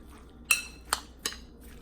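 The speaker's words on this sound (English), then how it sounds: "Now let me grab a spoon so that way I can mix everything together." A spoon mixing taco filling in a bowl clinks three times in close, distinct taps about half a second apart, with a quiet pause between strikes and no voices.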